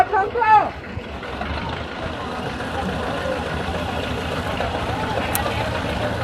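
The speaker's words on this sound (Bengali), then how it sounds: "আমরা এখন আবার সেই আমাদের নৌকাতে করে চলে যাব।" A boat moving on a lake at Rangamati, its engine a steady low drone with water wash running throughout, after a brief louder burst at the start; people talk faintly beneath it.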